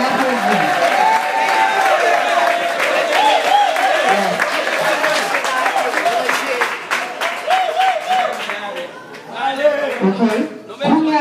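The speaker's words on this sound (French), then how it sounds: "On applaudit Frère Alain Laventure." A church congregation applauds at an appreciation ceremony, with sustained clapping and crowd noise, occasional cheers and voices talking and singing over it throughout, easing slightly near the end.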